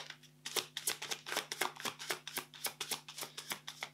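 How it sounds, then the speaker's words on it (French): Tarot cards are shuffled and handled close up, giving a fast, steady series of crisp papery riffles and flicks that stays fairly quiet throughout. "Je vais tirer une troisième carte complémentaire."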